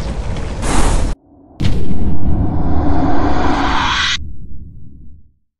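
Loud bursts of gunfire, grenade blasts and a wall breaking in a competitive team shooter match fill the clip, broken by a brief gap of near silence, then a long roaring barrage that cuts off abruptly.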